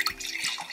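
Cold brew coffee being poured from a container into a glass in a home kitchen, a steady close liquid trickle and splash lasting under a second with no talking.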